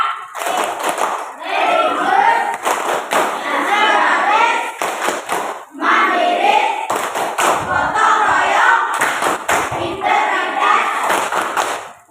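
Schoolchildren in a classroom perform a rhythmic clap chant, bursts of patterned clapping alternating with loud shouted chanting voices for several seconds.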